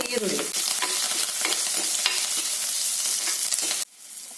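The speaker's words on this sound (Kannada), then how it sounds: "ಈರುಳ್ಳಿ ಫ್ರೈ ಆಗಿದೆ." Garlic, curry leaves and onion fry in a pan, giving a loud continuous sizzle with faint scraping stirs, close up, that cuts off abruptly near the end with no voices.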